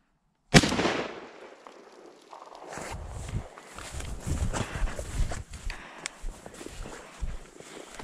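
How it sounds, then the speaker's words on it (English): A shotgun fires while hunting wood ducks on a dammed-up creek: one sudden, loud, close blast, followed by continuous rustling and crunching movement through brush and water. "I'm gonna shoot him."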